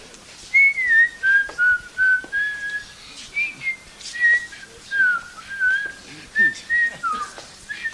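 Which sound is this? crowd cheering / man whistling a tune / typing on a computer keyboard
man whistling a tune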